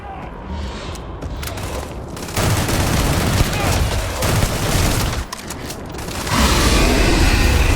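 Heavy sustained gunfire and explosive rumble in the sci-fi video game Starfield during a UC Vanguard mission, a loud continuous barrage with brief dips and a surge near the end, with voices mixed in.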